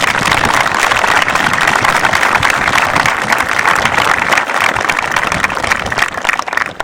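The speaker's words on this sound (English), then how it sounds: "please give them a round of applause." Loud, dense applause from an audience at a prom-night safety event in Polk County, Arkansas, sustained and close throughout with no talking.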